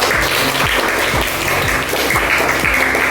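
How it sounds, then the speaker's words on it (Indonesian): A classroom of students applauds a student group, dense continuous clapping at a loud, steady level with a faint repeating background tone running under it. "Tapi tetap beri tepuk tangan untuk kelompok mata elang."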